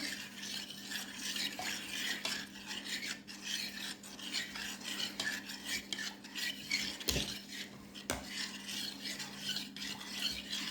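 A tiramisu cream mixture being stirred in a bowl, a steady close scraping and rubbing that continues for about ten seconds with a few sharper knocks along the way.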